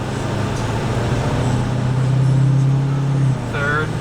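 A Ford 6.7 Powerstroke diesel truck accelerating through its gears, a steady droning engine and road hum that rises, then drops at a shift, with a brief voice heard near the end.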